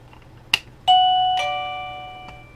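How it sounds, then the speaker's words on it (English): A PLACUY indoor doorbell receiver sounds a loud two-note electronic chime, a sharp first tone followed by a long ringing second tone that slowly decays, close and alone. "It actually has a doorbell too that you can put inside, so you know when somebody's knocking."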